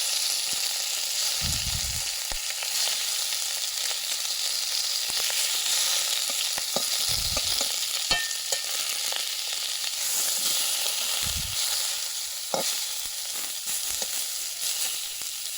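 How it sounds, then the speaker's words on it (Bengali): Chicken pieces frying lightly in a pan while preparing momo soup, a steady close sizzle running throughout with occasional low stirring bumps and clatters. "মাংসগুলো দিয়ে হালকা পরিমাণে ভেজে নেবো"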